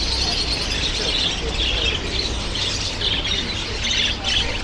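Caged birds squawk and chirp at a crowded Hong Kong bird market, with constant mid-pitched calls over steady market bustle and faint voices in the background.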